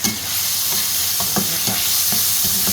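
Stir-frying with curry paste in a pan gives a loud, steady sizzle, with a spatula scraping and tapping the pan in a loose rhythm of repeated strokes.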